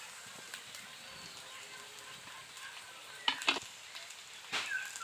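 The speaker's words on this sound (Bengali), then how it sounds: "আলুটা হালকা লাল লাল হয়ে এসছে, তারপর পেঁয়াজ কুচিগুলো দিচ্ছি।" Potatoes and chopped onion frying in a pan, a soft low sizzle under quiet background with a few brief spoon scrapes and stirring clatters near the end.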